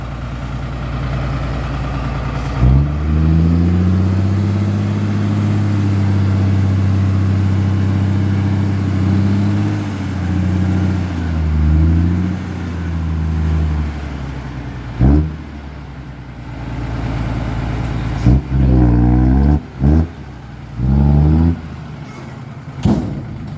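A six-head truck engine at a dirt-hauling job idles with a deep rumble, then revs in repeated rising and falling bursts. The engine is loud and close and runs alone without talk.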